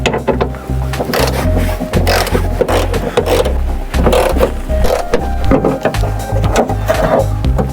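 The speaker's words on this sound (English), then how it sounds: "We're gonna take these bolts off" Bolts coming off a car part: a steady mechanical chattering and ratcheting with a low rhythmic rumble throughout, close and loud, without talk.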